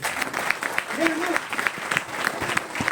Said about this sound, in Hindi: एक बार ताली बजाओ इसके लिए।